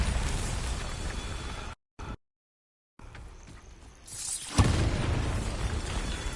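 A Bombarda spell explodes in the Hogwarts Legacy video game: a loud, sudden blast that breaks in after a brief silence, then a sustained rumbling roar of debris.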